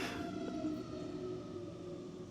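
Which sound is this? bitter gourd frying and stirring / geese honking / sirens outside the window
sirens outside the window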